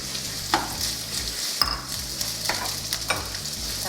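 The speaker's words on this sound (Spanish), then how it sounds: "para poner a sofreír lo que habíamos picado anteriormente" Chopped onion sautéing in oil in a pan for chicken and rice, a constant close sizzle broken by a few sharp spoon scrapes and clinks, no talking.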